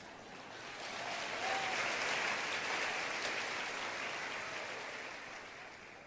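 A church congregation applauding, a broad, even wash of clapping that swells in after a second and holds steady, slowly thinning toward the end.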